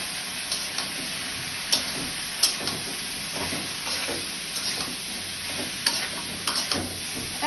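Dal cooking in a pan, a steady soft sizzle with occasional light stirring clicks and scrapes, fairly quiet and close with no talking.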